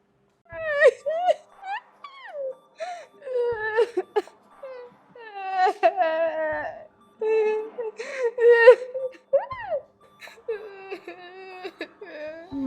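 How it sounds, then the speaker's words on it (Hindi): A young boy cries in repeated wailing, sobbing bursts with short breaths between them, close and clear in a quiet setting. "ये रोने की आवाज कहाँ से आ रही है?"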